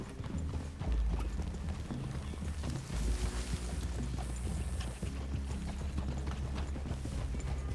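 Horse hooves clip-clop in a steady walking rhythm on a trail in the Red Dead Redemption II video game, with wind and low outdoor ambience around them.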